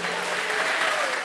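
A church congregation applauding during a sermon, a brief burst of dense, steady clapping from the crowd at moderate volume.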